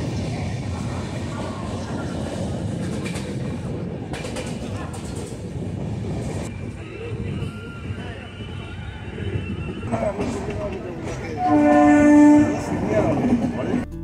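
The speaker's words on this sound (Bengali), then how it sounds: "12342 আসানসোল হাওড়া অগ্নিবীণা এক্সপ্রেসে করে সকাল 6:36-এ রওনা দিলাম হাওড়া স্টেশনের উদ্দেশ্যে" Asansol–Howrah Agnibina Express 12342 running, with a steady low rumble of rolling wagons and a long horn blast near the end.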